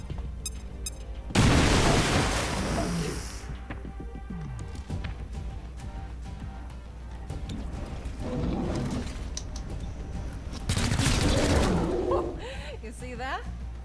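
Frag grenade detonations and gunfire in the XCOM: Chimera Squad video game, two loud booming blasts with a rumbling tail under a man's speech, plus scattered mechanical clicks and game effects.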